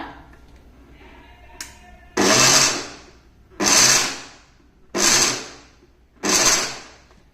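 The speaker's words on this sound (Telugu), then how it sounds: "వీటిని రెండింటిని కలిపి ఒక్కసారి మిక్సీ పట్టుకుందాం" An electric mixer grinder grinding sesame seeds with jaggery runs in four loud bursts of about a second each, with short quiet pauses between them and a small click just before the first burst.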